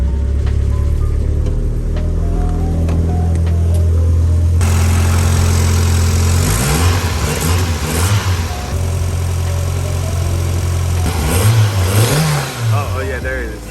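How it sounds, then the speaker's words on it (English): Turbocharged Mazda Miata engine cranking over, catching and settling into a loud, steady idle with a few blips of revving, heard up close and alone. "let me just start it up and show you how it sounds."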